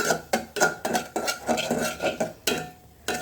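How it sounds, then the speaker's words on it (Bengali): Semolina is stirred in a pan while an egg pudding is being made, producing rhythmic metallic scrapes and knocks of a spoon against the pan, roughly twice per second, with faint sizzling underneath. "সুজিগুলো দিয়ে নাড়তে থাকবো"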